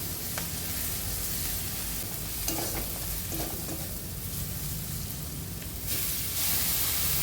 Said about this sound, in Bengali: দিয়ে ভালো করে পেঁয়াজ রসুনের সাথে মিশিয়ে নেব।